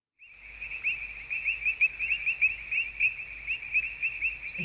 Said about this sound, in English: I can't get enough of those crickets.